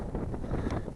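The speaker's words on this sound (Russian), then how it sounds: "ветер сегодня что-то конкретненький" Wind gusting across open ice during winter fishing in snow, a rough low buffeting roar hitting the microphone for a brief moment.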